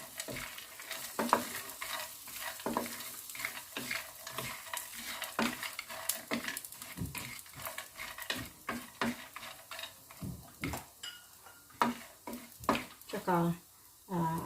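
Pork belly sizzles and fries in a pan for crispy sisig, with frequent stirring scrapes and clinks of a utensil against the pan, fairly steady and close throughout.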